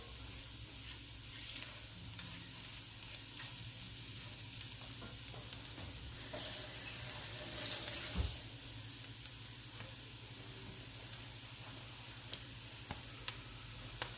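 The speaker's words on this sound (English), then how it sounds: "So you're gonna brown all of that together in the pan." Ingredients for pozole rojo, including oregano, browning together in a pan, with a soft, steady sizzle, occasional ticks and scrapes of stirring, and one louder knock midway; faint and continuous with no talking.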